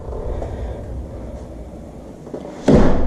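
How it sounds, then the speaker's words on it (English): A door in a house under inspection shuts with a single solid thud near the end, close and loud, after a stretch of quiet room noise. "so this door now shuts according to code."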